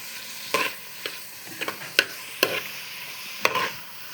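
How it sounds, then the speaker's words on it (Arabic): Onions frying in oil and ghee, stirred with a utensil: a steady close sizzle punctuated by about eight irregular scraping knocks against the pan, with no voices. "حطينا البصل وبنقلب البصل"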